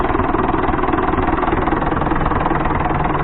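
A Fordson Super Major tractor engine runs steadily and loud throughout, a continuous close-up diesel rumble with a fast, even pulse and no other sounds.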